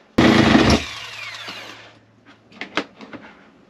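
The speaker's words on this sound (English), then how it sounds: "cutting bit is really struggling to reach it" A power tool's cutting bit strains during van interior electrical work, with a loud, harsh grinding burst that quickly dies away, then a few sharp taps and knocks.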